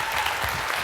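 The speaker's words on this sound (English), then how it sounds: "Give that man a big round of applause." Audience applause in a live conference hall for marketing author Jay Conrad Levinson, a steady, dense wash of clapping that holds at an even level throughout the short burst.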